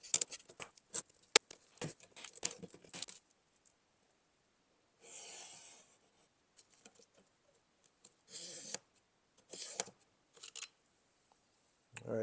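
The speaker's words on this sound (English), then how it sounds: "So I'm going to cut this rail here." Small snipping and clicking sounds as model railroad rail is cut on a diorama, sharp close ticks in scattered clusters with short scraping bursts and quiet gaps between.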